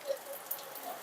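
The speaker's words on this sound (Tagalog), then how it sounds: "Lakas na ulan mga Katis Vlog oh. Yan po, maulan na gabi." Rain falling at night, a steady soft hiss with a few brief drop-like spots, faint and fairly distant, with no one talking.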